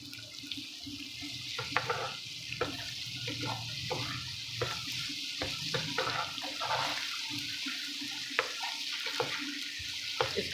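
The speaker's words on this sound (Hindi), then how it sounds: "लो टू मीडियम फ्लेम पे इसको हम फ्राई करेंगे तड़के को।" Low, steady sizzle of a tadka for chana dal frying on a low-medium flame, a soft continuous hiss dotted with small pops and crackles, fairly quiet and close.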